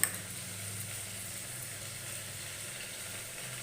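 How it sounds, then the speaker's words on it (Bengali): Whole cumin seeds dropped into hot oil, giving a faint, even, hissing sizzle that holds steady after a brief tap at the start, close by with no voices. "গোটা জিরে দিয়ে দিলাম"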